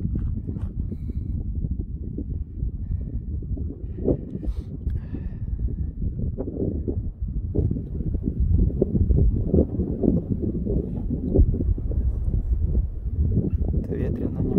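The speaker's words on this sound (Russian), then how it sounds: "Это ветрено немного" Steady wind buffets a Grand Canyon viewpoint, a continuous low rumble of gusts across the microphone with faint rustling and no clear voices.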